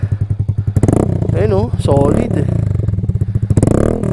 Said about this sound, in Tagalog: So testing natin yung tunog ng 4J pipe.